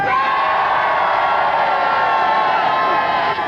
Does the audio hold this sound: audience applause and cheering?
yes